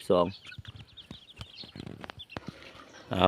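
Chickens and ducks on a rural homestead cluck repeatedly, with sharp close clucks and squawks scattered throughout over faint background noise.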